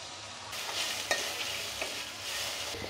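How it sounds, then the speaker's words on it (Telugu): Onions and tomatoes stir-fry in a pan for poha, a continuous sizzle broken by a few scraping stirs of the spatula, close and moderately quiet with no talking. "ఈ ఎర్రగడ్డలు కొంచెం కలర్ మారే వరకు వేయించుకోవాలి."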